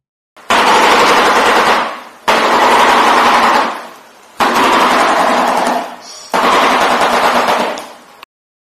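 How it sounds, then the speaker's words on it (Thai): A shoebill stork gives four long, loud rattling bursts like machine-gun fire, each lasting about two seconds and fading at its end, separated by short gaps with no other sound. "นกกระสาปากพั่วจะส่งเสียงที่คล้ายกับการยิงปืนกล"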